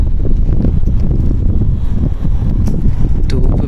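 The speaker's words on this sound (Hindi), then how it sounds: "हवा चल रही है" Wind blowing through a park in Saudi Arabia. It makes a steady, loud rumbling buffet across the microphone, with a low roar and no clear breaks, and a faint voice is mixed in.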